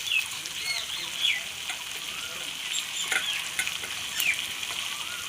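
Gobindobhog rice frying in a pan with turmeric and salt, a steady close sizzle with faint scraping stirs and a few short high squeaks scattered through.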